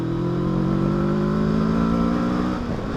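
A Kawasaki Versys 650 engine pulls hard while riding, a loud steady drone that climbs in pitch as it accelerates, then drops off near the end as the revs fall.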